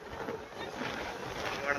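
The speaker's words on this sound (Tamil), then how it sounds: "இவ்வளவு சூறாவளி காத்து அடிக்குது" Strong wind roars at a beach in Kanyakumari, a continuous broadband rush buffeting the microphone with no break, loud and close.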